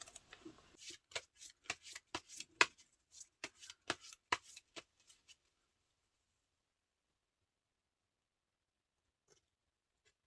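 Tarot cards being shuffled and drawn at close range: a run of crisp riffling snaps and slaps for about five seconds, then near silence with one or two faint soft taps.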